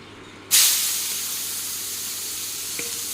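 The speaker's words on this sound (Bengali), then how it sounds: "আলু আর সিমটা একসঙ্গে বেজে নিই লবণটা দিয়ে বেজে নেব" Potatoes and flat beans drop into a hot pan with salt and burst into a loud, sudden sizzle that settles into a steady frying hiss, with one faint clink near the end.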